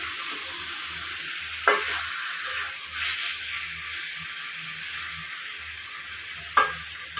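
Chicken stir-fried uncovered in a pan, a steady close sizzle with occasional stirring scrapes, including two sharper strokes.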